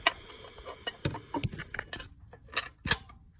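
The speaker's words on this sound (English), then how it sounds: "I'm just going to take an open end wrench" An open-end wrench fitted onto a bolt while replacing a reverse light switch, heard as a cluster of light metallic clinks and taps, close and intermittent, with no voices.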